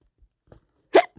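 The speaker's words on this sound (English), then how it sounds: "Excuse me, I got the hiccups." One sharp, loud hiccup stands out near the end, with a few fainter small sounds before and after it in an otherwise quiet setting.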